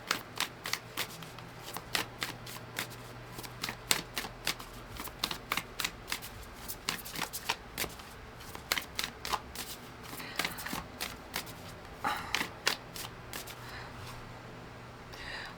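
A deck of oracle cards is shuffled in a steady run of crisp riffling slaps, close and fairly quiet over a low steady hum, with no talking.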